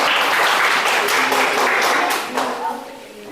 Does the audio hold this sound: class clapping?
yes